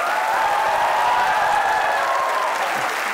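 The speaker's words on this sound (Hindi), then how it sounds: "जिनको लगता है कि मेरी बाइक कचरा है तालियां बजाएं" A comedy talk-show studio audience breaks into steady, even applause, a dense wash of clapping held at full level for the whole stretch without voices.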